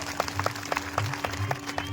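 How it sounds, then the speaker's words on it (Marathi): An audience at a spiritual gathering claps to welcome a guest, a thin scatter of distinct hand claps at moderate distance over a low steady hum, fairly faint and brief. "सर्वांनी जोरदार टाळ्या वाजवून स्वागत करावं"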